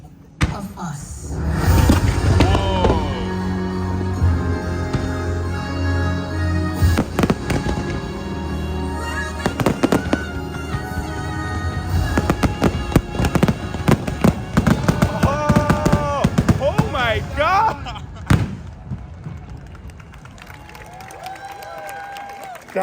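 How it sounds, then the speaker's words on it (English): A fireworks show at Epcot sends out continuous loud, close booms, crackles and sharp bangs over a musical score, with a crowd of spectators reacting and talking in the background. "the most sophisticated Firework show"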